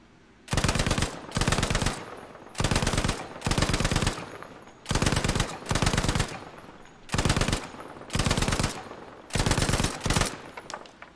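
Bren and K7 guns from Battlefield V firing on a shooting range, heard as eight loud, close bursts of automatic fire separated by short pauses, with no talk.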